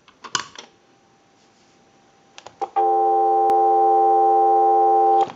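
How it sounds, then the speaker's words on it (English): A steady electronic dial tone sounding on a Kellogg wooden wall crank telephone converted for modern use, starting abruptly after a few clicks and knocks and holding loud and unbroken for almost three seconds. "So we're going to give you some dial tone."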